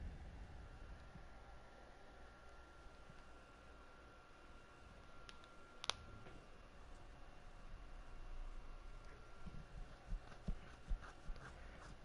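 Faint horse hoofbeats in Kingdom Come: Deliverance clip-clop at an uneven pace over a low, noisy background, with one sharp knock near the middle and a few clearer steps toward the end.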